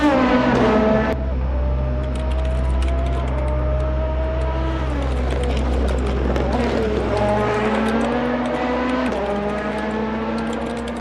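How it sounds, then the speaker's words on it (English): Race cars run around the Bathurst circuit in a sim racing game, with a loud, continuous engine drone and revving pitch that rises and falls as the cars accelerate and shift. "We'll kind of let Sims' car run on track"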